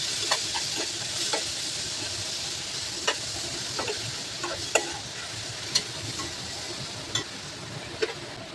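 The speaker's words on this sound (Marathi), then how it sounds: "हाफ टेबलस्पून धणा जिरा पावडर. आणि हे चांगलं आपण तेलावर परतून घेऊया." Coriander-cumin powder sautéing in hot oil for an instant paneer dish, a steady close sizzle with sharp stirring clicks and scrapes every second or so, no voices.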